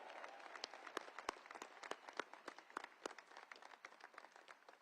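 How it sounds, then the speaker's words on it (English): Audience at the United States Air Force Academy commencement applauding, steady crowd clapping with distinct sharp nearby claps standing out over the continuous patter, no voices. "Round of applause for all of them."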